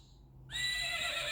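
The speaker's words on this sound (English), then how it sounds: "What does the horse do?" After a brief quiet moment, a button on a children's farm-animal sound book plays a single recorded horse neigh, a bright whinny that lasts to the end, with no voices over it.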